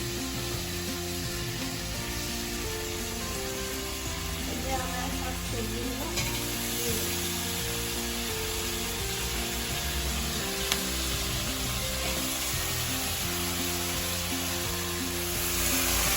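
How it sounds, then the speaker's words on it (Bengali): Vegetables fry in a pan with a dense, steady sizzle that holds throughout, loud and close, while background music plays along. "সবজিটা ভালো করে ভাজবে, যাতে একটু লাল লাল করে ভাজবো"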